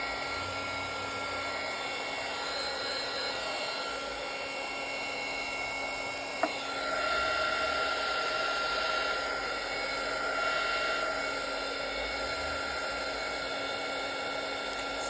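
A hair dryer blows steadily for about fifteen seconds to dry a craft project with quick heat, making a loud, close whirring roar with a sharp click partway through and no talking.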